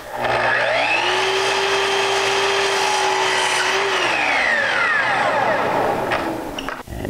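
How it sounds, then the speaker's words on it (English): A miter saw cuts through wooden molding: a loud motor whine spins up, holds steady through the cut, then winds down and fades, with no talking. "So I'm cutting to the short point at the back of the molding so I don't have to swing the saw."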